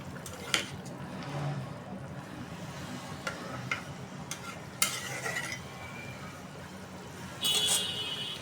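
Curry frying in a pan with fried cumin spice added, quiet sizzling under repeated scraping stirs and sharp clinks of a utensil against the pot, with louder clatters near the end.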